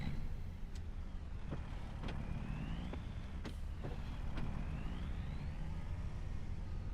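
An old truck's engine idles steadily at an abandoned acreage right after starting, a low rumbling drone with a few sharp clicks and creaks over it.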